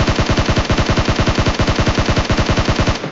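Rapid automatic fire from a SCAR rifle in a mobile battle game, a loud, close, evenly spaced stream of around thirty shots with no pauses, ending abruptly.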